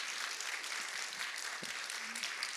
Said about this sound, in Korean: 우리 뜨거운 박수로 한번 격려해 주시길 바랍니다